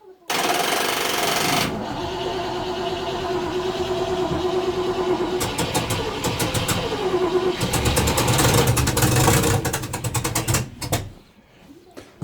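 A 1972 Range Rover engine cranks and fires, then runs roughly with a blowing exhaust, loud and close, with rapid ticking bursts and revving before it cuts out near the end; a voice talks briefly over it.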